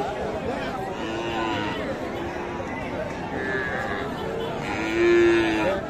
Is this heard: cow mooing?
yes